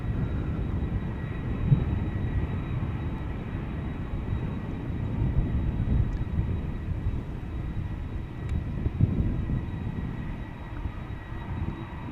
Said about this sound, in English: 749 to Bogota, Colombia. The PHBHH. It's an 8-year-old airplane.